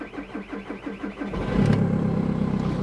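A Seat Altea car engine starts: a few seconds of rhythmic starter cranking, then the motor catches and settles into a steady, fairly loud running drone.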